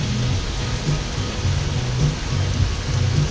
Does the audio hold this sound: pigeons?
no